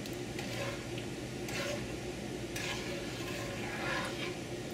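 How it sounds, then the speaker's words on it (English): Sugar and pepper jelly mixture melting in a pot, stirred with soft wet swishing and occasional spoon scrapes, close and moderate over a faint steady hiss. "You want to stir it and get everything stirred"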